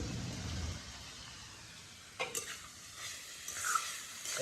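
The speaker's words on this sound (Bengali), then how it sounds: "কষাতেই টমেটোটা দিয়ে দেবো।" Tomato fries with snail curry in a pan, giving a faint, steady sizzle broken by a few soft stirring scrapes.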